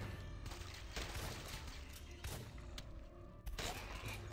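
Rapid muffled gunfire in the video game The Last Stand 2 as zombies are shot in the head, a fairly faint, continuous crackle of shots with a few heavier thuds.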